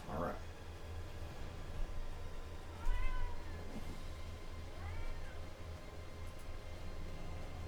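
A pet kitty cat meows a few times, close and clear, over a steady low hum of background noise while someone talks nearby.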